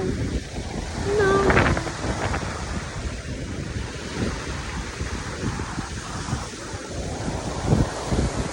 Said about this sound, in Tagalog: Ang hangin sa labas, oy.